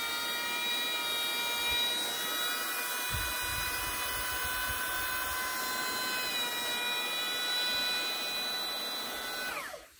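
A Katsu brushless trim router whines steadily at high speed close by, a sustained tonal drone holding for nearly ten seconds before its pitch drops sharply as it spins down at the end.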